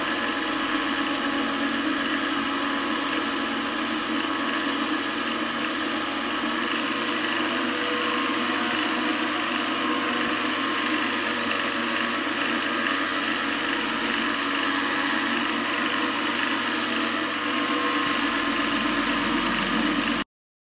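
Wood lathe spinning steadily while a live edge bowl is burnished, giving a continuous loud motor hum and whir that holds unchanged for about twenty seconds before stopping abruptly.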